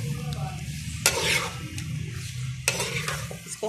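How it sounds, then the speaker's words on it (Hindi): Chicken pieces frying in a pan while being stirred for a chicken and cauliflower dish: a steady low sizzle runs throughout, broken by two sharp scraping stirs of a utensil against the pan, close and moderately loud. "अब इसमें हम चिकन डाल देंगे। चिकन जितना हो सके उसको फ्राई करें,"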